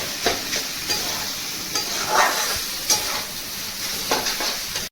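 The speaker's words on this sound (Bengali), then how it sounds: "এগুলোকে ভালো করে নাড়তে হবে।" Boiled chowmein noodles fry in a pan as street-style mixed chowmein is tossed and stirred, with rhythmic scraping strokes every second or so over a continuous close sizzle, with no voices.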